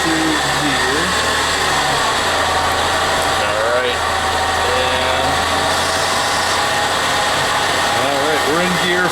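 A Ford Escape converted from front wheel drive to four wheel drive, sitting in gear with the engine running, a loud steady drone and whine with wheels spinning, while someone talks over it.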